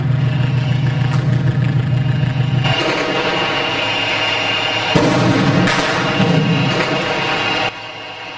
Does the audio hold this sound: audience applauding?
no